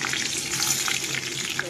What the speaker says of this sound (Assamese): এইখিনি তেলতে এতিয়া আমি গোটা জিৰা কেইটামান দি দিলোঁ। তাৰপিছত তেজপাত আৰু শুকান জলকীয়া দিলোঁ।